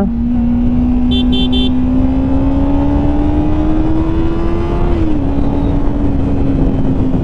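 A 2023 Kawasaki Ninja 300 engine held at a loud, close, steady rev that slowly rises, then drops slightly near the end, with a short beeping tone early on and no talk.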